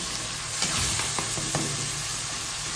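Tomatoes with red chili and chili flakes cook in a pan, a steady close sizzle broken by a few soft scraping and mashing strokes as they are stirred.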